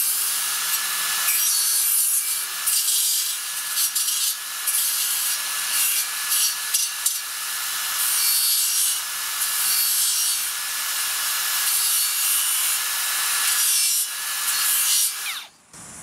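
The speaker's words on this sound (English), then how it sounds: "this is a power file as well" Makita 18V cordless belt sander used as a power file on wood, a continuous high abrasive whir with faint motor whine running steadily for the whole stretch, briefly dipping near the end, no voices.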